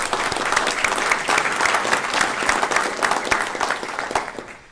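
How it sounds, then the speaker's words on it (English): Applause from an audience at a criminal justice board meeting, a dense steady patter of many clapping hands, loud and sustained throughout with no speech. "I would like to ask for another round of applause for Officer Langford."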